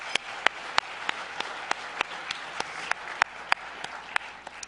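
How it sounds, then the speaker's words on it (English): Applause at an awards luncheon for a fuel cell seminar team, a dense patter of many hands with a few sharp, close claps standing out at irregular moments, steady and sustained. "Please join me in giving them all a round of applause."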